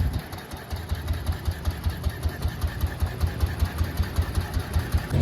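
A 1957 BMW R26 single-cylinder motorcycle with its original 6-volt ignition idles smoothly, a steady close rhythmic putter of evenly spaced low thumps running throughout with no voices.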